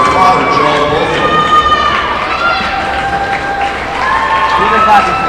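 A crowd in a high school basketball gym claps together, a loud, busy mass of applause mixed with voices and cheering that carries on without a break.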